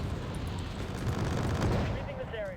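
Massive airstrike with gunfire in the video game Wargame Red Dragon, a dense, continuous roar of explosions and rattling fire with no break, rising slightly toward the end as a whining tone sweeps in.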